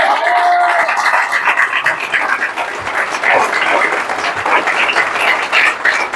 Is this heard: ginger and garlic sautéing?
no